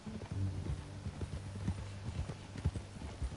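Horse hooves clip-clop steadily in Red Dead Redemption 2, a dull, rhythmic trotting beat at moderate volume with faint background noise.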